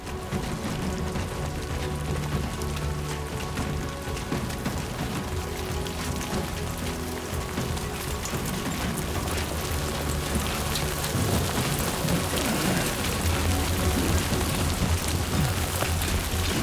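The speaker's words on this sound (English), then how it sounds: "Great. Rain." Rain falls in the Death Stranding 2 video game, a steady dense patter on surfaces that grows slightly heavier toward the end, with faint low rumbles beneath and no talking.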